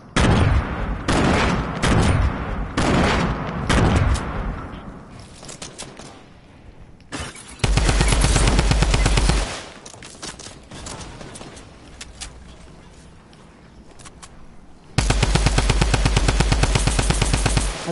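Video game gunfire crackles in rapid automatic bursts, several long sustained volleys separated by quieter gaps with scattered single shots, loud and close.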